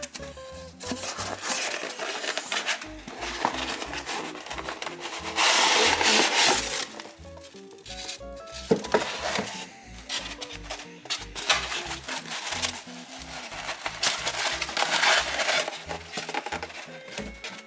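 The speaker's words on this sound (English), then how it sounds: "let's unbox this thing" Someone unboxes a small Chuck E. Cheese animatronic bobblehead from basic packaging. Up close there is crinkling, rustling and tearing, with irregular bursts of handling noise and a few louder rips.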